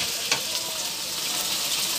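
Ingredients sautéing in a hot pan for a Filipino dish, a steady bright sizzle with a brief clink or stir near the start, alone and moderately loud.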